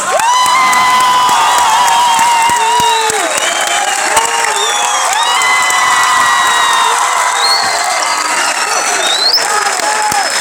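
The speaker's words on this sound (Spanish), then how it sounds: "quiero que le demos un fuerte aplauso, una gran bienvenida a este escenario al actor Chad Coleman." An audience at a comic con in Argentina applauds and cheers loudly as an actor is welcomed onto the stage, with steady clapping, whoops and shouts filling the hall while a voice speaks over the crowd.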